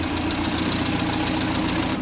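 A Toyota Publica 1000 KP30 engine runs at a rough, knocking idle with a steady mechanical throb, close and fairly loud, without any clear rise in revs; a possible worn valve oil seal makes it smoke when revved.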